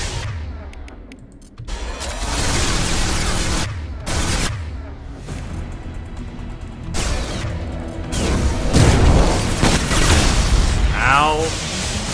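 A grenade goes off in Mass Effect 2 amid a combat clamor of booms and gunfire that comes in loud bursts. A voice speaks partway through.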